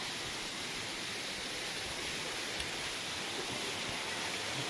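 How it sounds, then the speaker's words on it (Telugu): Cheeku Dhara Waterfalls at a Shiva temple in Andhra Pradesh, where water is piped onto the Shiva lingam, produces a steady, even rushing roar of falling water that fills the scene without pause. "మన వాటర్ ఫాల్స్ దగ్గర నుంచి శివుడి మీద ఇప్పుడు నిత్యం వాటర్ పడేలాగైతే పైప్ చూడండి ఎలా పెట్టారా."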